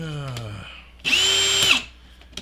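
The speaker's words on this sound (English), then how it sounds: "thank you, Ryobi, for sending me 2 drills, because I can set one up with a countersink" A Ryobi power drill whirs up to speed in one steady burst of about half a second, close and loud, then spins down; a voice is heard briefly just before it.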